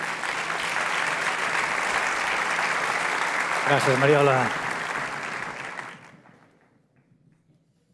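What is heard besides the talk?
audience applause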